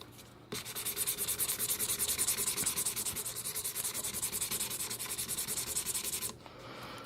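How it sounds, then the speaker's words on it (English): Acrylic nails being filed in quick, even back-and-forth strokes, a close scratchy rasp repeating rhythmically for about six seconds before stopping, with no voices. "I'm going to go ahead and file"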